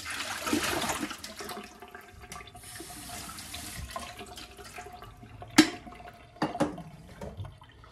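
Warm water runs and splashes while being poured into a coffee maker during home cleaning, a steady trickling wash with a few sharp clinks and knocks toward the end.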